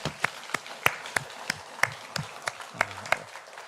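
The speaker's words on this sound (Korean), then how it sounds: "우리 박수로 격려하겠습니다" Claps from a church congregation during a Sunday worship service, praising the children's and youth departments: a sparse, fairly even run of sharp individual claps at a steady beat, moderately close, with no talking over them.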